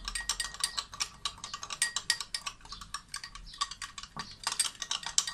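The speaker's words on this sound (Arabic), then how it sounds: "وبنحركهم كتير منيح" A spoon stirs yeast and sugar for a kahk mixture, making quick, close, repeated clinks and scrapes against the bowl in an uneven rhythm.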